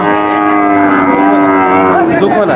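A cow at the Chaugachha cattle market gives a loud, close, drawn-out moo lasting a couple of seconds, with crowd noise faintly behind it.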